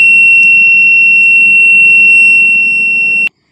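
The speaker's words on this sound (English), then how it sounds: "the system giving alerts in the form of buzzer and LED in the belt itself" A buzzer on a worker safety belt device sounds a loud, steady high-pitched electronic tone that holds continuously for about three seconds before cutting off abruptly.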